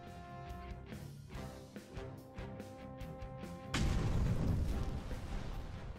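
An Inferno fire spell explodes in the fantasy strategy game Regalia: Of Men and Monarchs, a sudden heavy whooshing boom that follows a stretch of rhythmic thuds and music and then roars on at full loudness.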